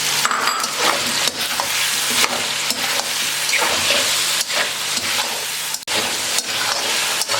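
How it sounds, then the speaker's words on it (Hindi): Tomatoes and green chillies frying with ginger garlic paste for chicken biryani, a loud, dense, continuous sizzle broken by scraping stirs of a spoon, close and steady with no talking. "3 से 4 हमने हरी मिर्चें ले ली, ये ऐड करेंगे और 2-3 मिनट के लिए इसको भी इसके साथ फ्राई कर लेंगे।"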